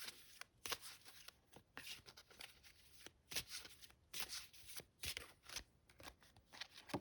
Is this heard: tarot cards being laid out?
yes